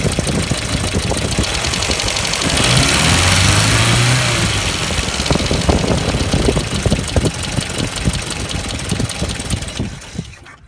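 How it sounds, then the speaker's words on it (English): A 1994 Ford Econovan engine with a sticking throttle runs loud and close, its rough knocking idle rising for a couple of seconds, then hanging high before settling and cutting off. "it also sounds like my throttle's sticking"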